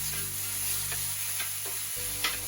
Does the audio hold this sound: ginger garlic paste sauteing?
yes